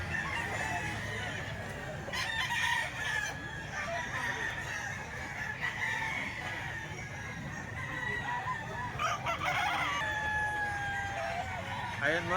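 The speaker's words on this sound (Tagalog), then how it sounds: "Dito sa bintahan ng manok sa grotto." Chickens and roosters at a busy Sunday chicken market by a grotto, with repeated loud nearby crowing and clucking over a steady crowd murmur and voices.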